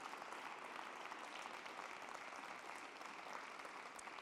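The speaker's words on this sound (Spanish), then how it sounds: "Un aplauso para todos ellos." Audience applause at an awards ceremony, a steady, even roar of many hands clapping from a large crowd, sustained throughout and heard alone.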